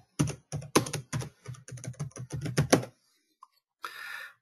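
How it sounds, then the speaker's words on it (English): Rapid typing on a computer keyboard, a close, crisp run of key clicks and thumps for about three seconds, then a lone tap and a short soft rustle, with no speech. "And I type my name, whatever information I need in here,"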